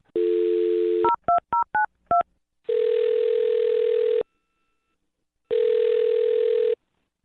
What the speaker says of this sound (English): I'll dial his phone number right now, okay?